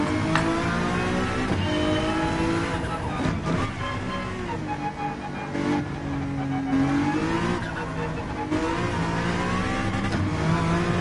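A Honda NSX race car in Gran Turismo 7 roars continuously, its engine rising and falling in pitch through throttle changes and gear shifts, with faint tire squeal mixed in, loud and close throughout.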